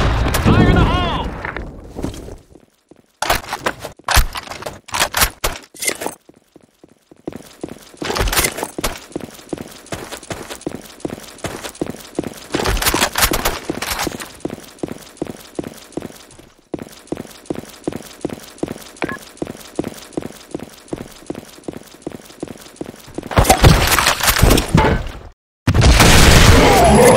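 Grenade explosions in the Blackshot first-person shooter game: several heavy booming blasts stand out over a long run of rapid, rhythmic footsteps and other game effects, with voices talking between them.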